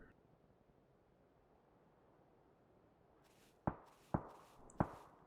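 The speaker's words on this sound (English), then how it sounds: "Think he's just about close enough to hear the footsteps now." Footsteps in PUBG: after a quiet stretch of faint wind-like background, three sharp, loud steps land close together near the end.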